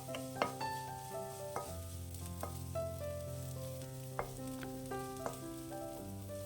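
Sliced onion and ginger soften in a pan with a quiet, steady sizzle. Light taps and scrapes of a spoon stirring are heard close by. A tonal background hum runs throughout, and no one speaks.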